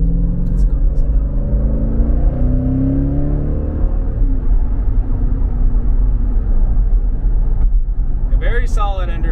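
A Jeep Grand Cherokee Trackhawk accelerates hard, its engine roaring loud and steady with rising tones from inside the cabin, with a short clatter near the end.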